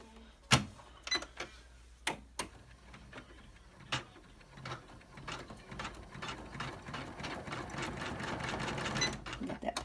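An embroidery machine stitches an in-the-hoop business card holder, giving scattered mechanical clicks and ratcheting taps at first, then settling into a quiet, steady, busy whir of rapid stitching.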